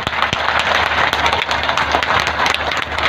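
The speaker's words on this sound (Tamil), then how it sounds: "ஒரு கரகோஷம் எழுப்புகிறோம்" Audience applause fills a hall at the Madurai book fair 2022 during a speech, a dense, steady wash of many hands clapping at close range for the full few seconds, with no talking over it.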